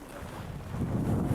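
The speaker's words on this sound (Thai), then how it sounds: "ตอนนี้ลมก็ยังแรงอยู่เลย" Strong winter wind buffets the microphone outdoors in the Bay Area district of Otaru, Hokkaido, a continuous low rumbling roar that swells louder toward the end, with no voices.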